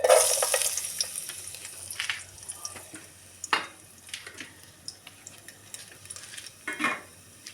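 Garlic frying in a pan, a soft steady sizzle with a few scattered clinks and scrapes of a utensil stirring against the pan, fairly quiet and close, no voices.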